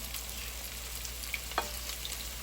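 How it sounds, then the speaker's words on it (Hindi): Chicken fries in a pan with a soft, even sizzle and a couple of faint pops and clinks, quiet and steady with no talk. "चिकन फ्राई हो चुके हैं और मैंने चखा है, बहुत टेस्टी है।"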